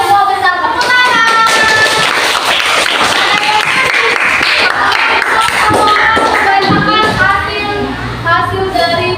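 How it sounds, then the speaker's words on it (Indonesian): Hands clapping together in an elementary school classroom during a fourth-grade Indonesian language lesson, a steady burst of applause from the pupils that runs the whole time with children's voices mixed in. "Tepuk tangan."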